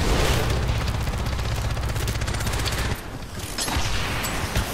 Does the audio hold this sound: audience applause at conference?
no